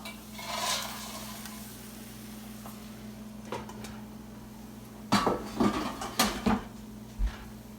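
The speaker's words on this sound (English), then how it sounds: "So we're going to add them to the tofu." Crispy potatoes tipped into a tofu scramble in a pan and stirred in, giving a run of close, sharp clatters and scrapes of utensil on pan over a steady low hum, with clustered knocks near the end.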